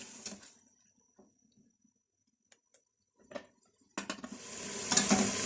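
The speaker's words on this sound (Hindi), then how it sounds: "इस तरह से भून लेते हैं।" Hyderabadi beef boti karahi with yogurt is stirred in a pot: scattered scrapes and clinks of a spoon, then a loud, steady sizzle of frying that rises and continues, close up and without talk.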